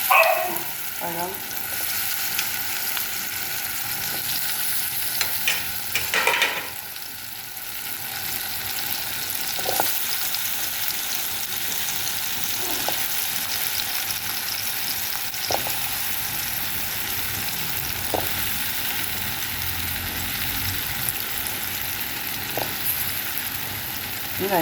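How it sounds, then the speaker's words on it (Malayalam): Fruits fry in ghee for a fruit payasam, giving a steady, continuous sizzle throughout with occasional light scrapes and knocks of a stirring utensil against the pan, close and moderately loud. "നെയ്യ് ഒഴിച്ചിട്ട് നമ്മൾ എടുത്ത് വെച്ചിരിക്കുന്ന ഫ്രൂട്ട്സ് ഓരോന്നും ഇതിലേക്ക് ഇടുവാണ്."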